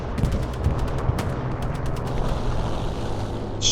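Rapid strafing gunfire from an aircraft in the World War II shooter Hell Let Loose on the Omaha Beach map, a dense rattle of shots over a continuous low rumble, fairly loud.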